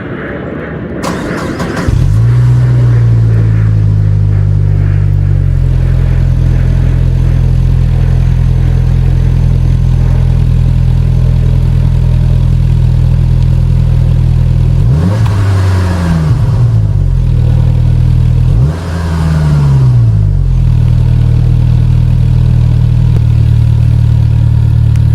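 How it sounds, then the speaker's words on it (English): Saab 9-5 2.3T fitted with a Jetex stainless steel 2.5-inch exhaust idling steadily and close by, a deep continuous drone with two brief throttle blips near the end, no voices. "And here is your Jetex sound clip."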